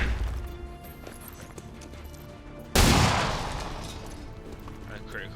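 Gunfire in the turn-based strategy game XCOM 2, a sharp loud shot bursting out midway over a busy game soundscape, followed by a lingering decaying rumble.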